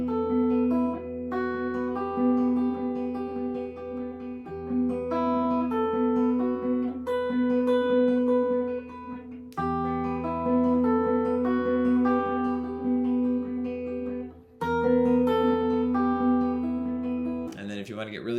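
The Last of Us theme melody on guitar, with plucked notes over a steady low supporting line in a continuous moderate-level passage that pauses briefly twice, ending in a short noisy burst.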